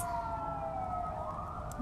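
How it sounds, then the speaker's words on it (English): Wailing siren of an emergency vehicle, its pitch sweeping slowly down and back up, heard at moderate distance over low traffic rumble. "Uh-oh, sirens."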